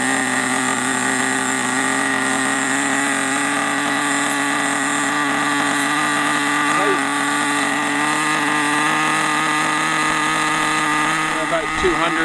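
A nitro-powered 1966 Mustang RC car engine idles steadily during break-in, a continuous buzzing drone with a faint brief blip near the end.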